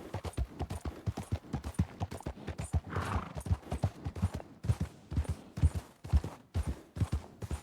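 Horse hooves clip-clop in a steady, rapid rhythm as a horse is ridden uphill in the game Red Dead Redemption 2, loud and close, with a brief whinny-like burst midway and no talk over it.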